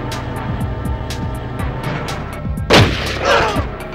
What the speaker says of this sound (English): The automatic shotgun has great punch to it